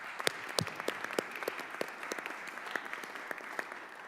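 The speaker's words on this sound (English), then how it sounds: "I think the students should give them a round of applause." Applause for students at a bipartisan congressional roundtable on antisemitism at colleges, a steady patter of many hands clapping throughout, moderately loud and without voices.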